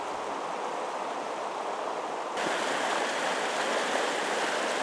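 Water rushing over rocks in a mountain stream full of pocket water, a steady broadband wash that swells slightly louder partway through, with no voices.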